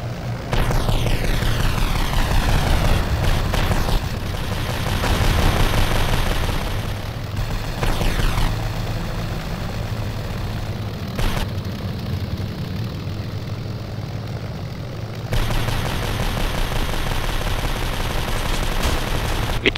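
Bomber aircraft engines drone through an air battle video game while bursts of machine gun fire rattle in repeated volleys, loud and dense, with a brief lull in the middle before the firing resumes.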